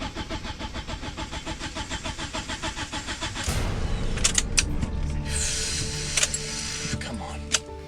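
A Mitsubishi Evo engine cranks with a rapid rhythmic churning for several seconds, then catches and roars into a rough idle with revving bursts, close and loud, with people talking in the background.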